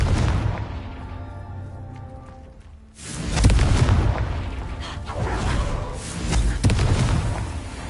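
A Confringo spell detonates in a video game with a loud booming blast at about three seconds, followed by rumbling, crackling debris and further impacts.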